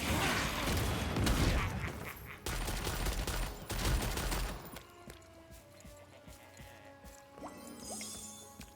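Gunfire in the video game Lost Ark rings out in rapid fusillades for the first few seconds. Game effects and faint musical tones follow, and no one speaks.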